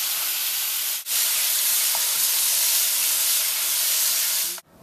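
Steady broadband hiss of meat sizzling in a hot skillet with Worcestershire sauce, loud and close, continuing without pause apart from two brief dips.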